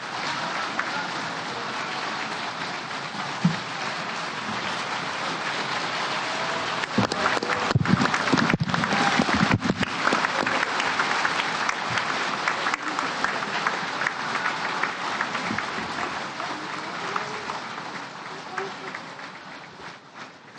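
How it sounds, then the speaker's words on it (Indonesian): Members of the Indonesian MPR assembly applaud in the plenary hall after the nomination of Bambang Soesatyo as chairman, a dense, sustained wash of clapping that swells in the middle with some louder close claps and voices mixed in. "Sudah cukup tepuknya."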